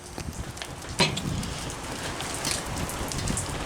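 Soft, steady patter of rain falling outdoors, a close continuous hiss with a single brief knock near the start.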